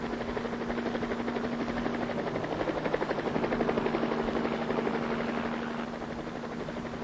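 A Boeing CH-47 Chinook twin-rotor helicopter drones steadily overhead, its dense rhythmic rotor chop and turbine whine loud and continuous, swelling slightly mid-pass with no voices.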